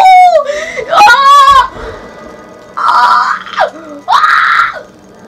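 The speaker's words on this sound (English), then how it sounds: "Sorry about the screaming" A gamer shrieks in excitement after scoring a goal in Rocket League: several loud, high-pitched wavering screams and squeals in close bursts, separated by short pauses.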